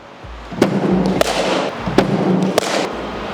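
Four sharp cricket bat strikes on a ball, crisp woody cracks spaced roughly half a second apart, heard during a comparison of a vintage bat against modern test cricket gear, loud and close over faint background noise.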